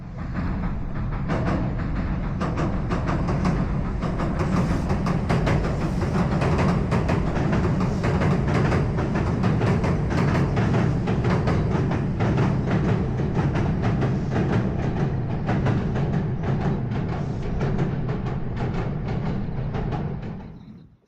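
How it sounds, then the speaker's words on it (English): A train bound for Hiroshima rolls past near Aki-Nagatsuka with a dense, continuous rumble and rapid clickety-clack from the wheels, loud and close for about twenty seconds before cutting off, with no voices. "And here's the train in the other direction,"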